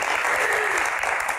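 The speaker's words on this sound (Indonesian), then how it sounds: "Tepuk tangannya mana?" Studio audience at an Indonesian television talk show bursts into steady, dense applause, loud and continuous throughout the short moment with no speech over it.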